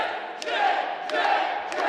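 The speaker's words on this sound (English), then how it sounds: "Crowd chanting for Jet Royal to make his way back up to his feet" A wrestling crowd at a live independent pro wrestling show chants steadily from the stands, a dense, continuous roar of many voices with rhythmic swells, heard alone without nearby talk.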